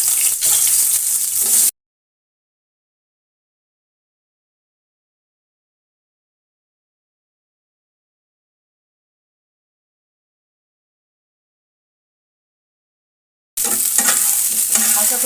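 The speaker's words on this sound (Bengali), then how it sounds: "এবার এই একই ফ্রাইং প্যানে আর একটু তেল অ্যাড করে দিয়ে আমি ফুলকপি এবং আলু দুটোকেই একসঙ্গে ভেজে নেব" Cauliflower and potatoes fry in oil in a frying pan while being stirred: two short bursts of sizzling and scraping separated by a long stretch of silence.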